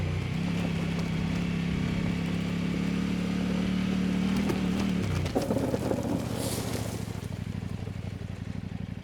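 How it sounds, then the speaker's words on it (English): Riding a Kove 800X Pro motorcycle brings a steady engine drone with rushing wind noise, the engine tone dropping partway through as the wind buffeting continues. "Shut that visor to try and keep the noise of the wind down a little bit."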